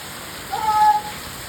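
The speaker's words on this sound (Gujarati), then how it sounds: "જો તમે કેટલો વરસાદ આમ જો" Steady rain hisses evenly throughout on a farm, with a brief thin whine rising over it midway.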